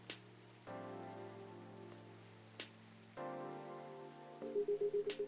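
Rain falls steadily outside, a soft continuous patter spread across the whole stretch beneath gentle sustained musical tones and a few short plucked notes near the end.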